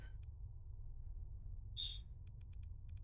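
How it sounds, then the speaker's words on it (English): A bird calls faintly in the background, picked up by a microphone: a short high chirp, then a thin squeaky call and a quick run of ticking notes over a constant low hum. "the fucking bird is coming through on the microphone"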